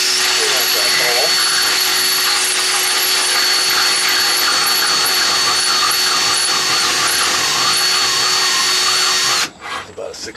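A power tool drills steadily to clean out a rivet hole on a 1967 Dodge Power Wagon, a loud continuous whine lasting about nine seconds before cutting off, followed by faint handling noises.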